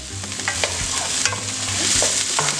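Garlic sautes in olive oil in a pan, a steady close sizzle broken by several sharp stirring scrapes.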